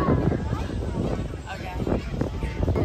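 Wind buffets the microphone in a steady low roar, loud and close, with voices underneath, aboard a cruise ship.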